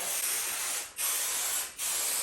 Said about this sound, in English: Just a quick layer of spray